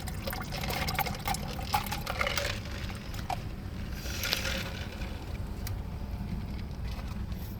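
Ice water pours steadily into a cup with a splashing, trickling wash over a low background rumble, a few clinks and crackles of ice scattered through.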